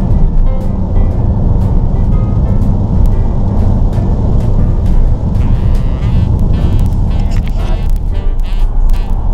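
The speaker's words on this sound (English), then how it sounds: "and a truck's pulling up" Heavy, loud low rumble of a truck engine nearby during a road trip from Spokane to Bellingham, Washington, with a continuous roar and some rattling throughout.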